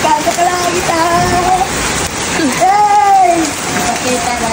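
Steady rain hisses and patters on surfaces all around, a dense continuous wash under excited voices shouting and calling out over it.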